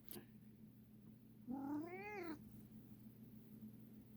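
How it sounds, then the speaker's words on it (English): Upset house cat meowing once during packing, a drawn-out rising and falling cry close by, set against a quiet room hum. "She already jumped in my suitcase and started crying"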